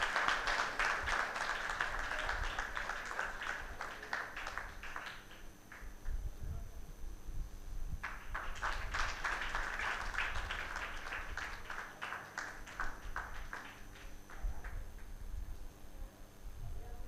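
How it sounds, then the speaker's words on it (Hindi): An audience at an International Day of Yoga event claps to welcome a guest, two bursts of sustained applause with a short lull between, steady and moderately loud at a distance, with some talking underneath. "एक बार जोरदार तालियों से हमारे अतिथि का स्वागत करें।"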